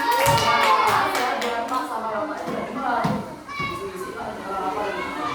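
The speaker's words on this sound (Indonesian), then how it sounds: "Kasih tepuk tangan dulu untuk temannya." Fourth-grade pupils in a classroom clap for a classmate with scattered, uneven hand claps, mixed with lively children's voices and chatter throughout.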